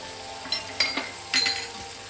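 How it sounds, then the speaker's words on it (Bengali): Poppy seed paste cooks with beans and potatoes in a pan for a Bengali aloo posto, a low sizzle broken by a few sharp clinks and scrapes of a spoon against the pan. "দিয়ে আমি আবারও ভালো করে বিনস আলুর সঙ্গে পোস্তটা কষিয়ে নেব।"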